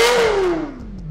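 A Lexus LFA engine revving high and close, then its pitch sweeping smoothly down as the revs fall away over about a second, no talking.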